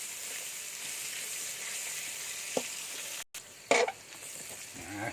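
Chili and garlic stir-fry in a wok with a low steady sizzle, a sharp spatula tap and a louder scrape after a brief cut, quiet and close, no voices.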